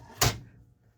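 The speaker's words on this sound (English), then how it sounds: "Sorry, that was my drawer opening." A desk drawer in a card-making craft room slides open with one quick, soft scrape and thump, close and brief, followed by quiet.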